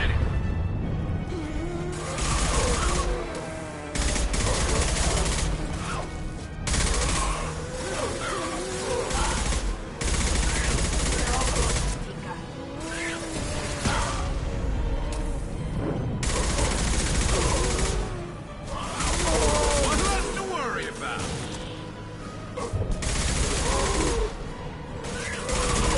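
A firefight in the video game Mass Effect 2 brings dense, loud, continuous gunfire, with overlapping automatic bursts and heavy impacts sustained throughout and only brief dips between volleys.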